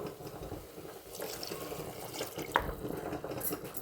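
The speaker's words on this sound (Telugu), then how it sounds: "ఇప్పుడు దీంట్లో 1 గ్లాస్ వాటర్ దాకా వేసుకుందాం" Water poured into a cooking pan of jackfruit curry, a soft, fairly faint splashing and trickling stream with small drips, heard alone.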